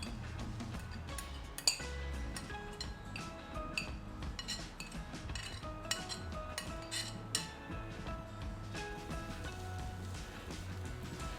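Black chickpeas tipped into a pan and stirred, with a spoon clinking and scraping steadily against the metal in quick, light, uneven strikes at close range.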